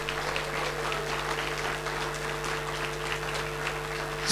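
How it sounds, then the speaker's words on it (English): An audience at the launch of a national payments strategy breaks into sustained applause, an even wash of clapping over a steady low hum in the hall. "And a big round of applause."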